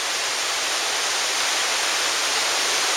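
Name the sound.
waterfall cascading down in Zion National Park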